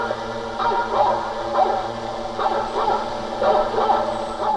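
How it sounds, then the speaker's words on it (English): Hunting dogs used to drive bears away bark and yelp repeatedly at a distance, a steady chorus of overlapping calls over a low rumbling background. "Sound of hunting dogs."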